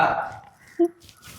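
A single short, voiced burp erupts near the microphone between stretches of conversation, a brief low guttural belch following louder talk.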